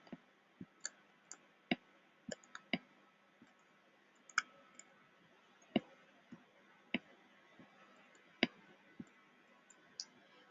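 Sharp, isolated computer mouse clicks scattered irregularly over about ten seconds, some single and some in quick pairs, close and crisp against a quiet room background with no talking.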